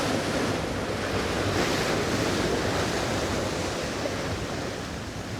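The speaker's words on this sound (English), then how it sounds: "Oh, some big waves coming now." Big ocean waves breaking on the rocky shore of Chiloé island, Chile, a continuous loud roar of surf with wind buffeting the microphone and no voices.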